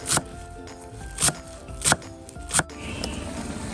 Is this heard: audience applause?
no